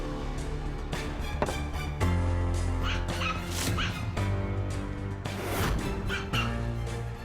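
A dog in a house's servant quarters barks in short yips and whimpers repeatedly throughout, moderately loud over a dense, steady background of tones.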